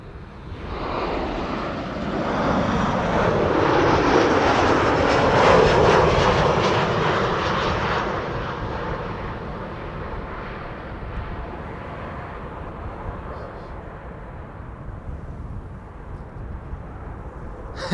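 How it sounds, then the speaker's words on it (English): A Boeing 787 Dreamliner arriving at Amsterdam Schiphol, inbound from Paris, passes with a loud jet roar that swells over about six seconds, then slowly fades into a lingering distant rumble. "Dreamliner arriving from XCR, arriving from the south, from Paris"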